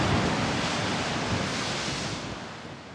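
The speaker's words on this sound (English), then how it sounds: "We are now watching the waves because it's a big swell today, and we are watching the waves against the cliffs" Big swell waves hit sea cliffs and make a steady, dense roar of surf that slowly fades a little toward the end, with no voices.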